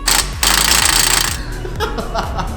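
Milwaukee impact gun hammering on a tight hub nut of a Honda Civic turbo build, loud rapid rattling bursts in two long runs with a brief pause, then shorter bursts near the end in a garage.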